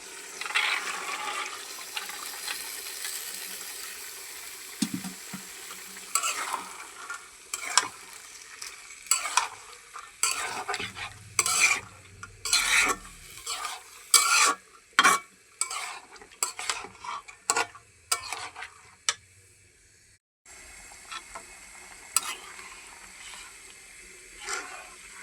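Chicken and chana dal being stir-fried in a pan, with repeated scraping, stirring strokes and bursts of sizzling in an irregular rhythm, fairly close and fairly loud with no talking.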